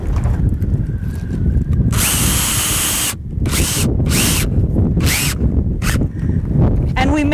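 A power drill drives screws into a high tunnel frame, several loud bursts of whirring with brief pauses between them, close up and dominant over outdoor background noise.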